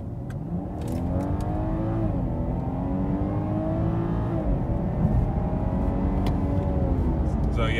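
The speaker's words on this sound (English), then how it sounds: "I'm going to turn it onto this street right here and do a little baby acceleration." A 2017 BMW 740i with the B58 engine accelerating in sport mode, heard from inside the cabin as the engine note climbs through gears with rising tones, loud and steady with a voice briefly over it.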